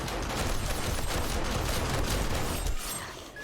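Turrets in 7 Days to Die fire at zombies in a dense, continuous rattle of rapid gunfire, loud and unbroken for nearly three seconds before abruptly cutting off into quieter mechanical noise.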